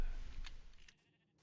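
A sheep bleats once in Minecraft, a short loud game sound that fades out after about a second, with no talk.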